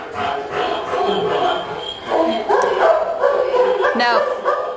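A distressed dog barks and yips in agitated bursts during a behavior assessment, the loud, uneven calls running throughout with brief whimpering tones between them.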